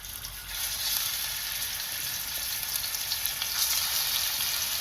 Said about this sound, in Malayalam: ചട്ടി ഇതിനെ മുകളിലേക്ക് വെച്ചിട്ട് കുറച്ച് വെളിച്ചെണ്ണ ഒഴിച്ചിട്ട് അതിനകത്തേക്ക് നൈസായിട്ട് ചിക്കൻ ഇട്ട് കൊടുക്കുകയാണ്